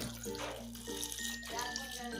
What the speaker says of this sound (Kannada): ಇದ್ರಾಗ ಒಂದು ಗ್ಲಾಸ್ ನೀರು ಹಾಕೋತೀನಿ ನಾನು